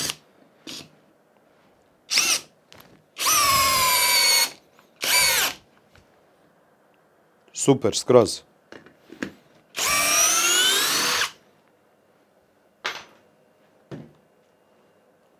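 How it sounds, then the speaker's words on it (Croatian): Parkside Performance PBSPA 12 C3 12V cordless drill with a 4 Ah battery, run in drilling mode at second speed, whirring up in several loud close bursts of a few seconds each with short pauses between, and brief speech in between. "Znači, druga brzina, režim bušenja, 4 amper sata baterije."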